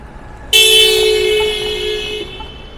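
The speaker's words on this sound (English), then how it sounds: "That's why that guy honked his horn." A single loud car horn blares nearby at a downtown Vancouver intersection, one sustained honk of about two seconds that cuts off abruptly.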